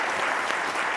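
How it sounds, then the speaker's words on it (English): Dense, steady clapping from a conference audience thanking a panel of robotics speakers fills the whole second at an even level, with no voices standing out. "let's give a round of applause to our fantastic panelists"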